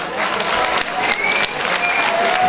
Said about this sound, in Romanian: Haideți să-l aplaudăm și pe Jackson.